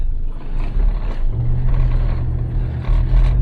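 A Dodge car stuck in slushy snow revs its engine in a low, rumbling drone that rises slightly partway through, close and steady with no talking.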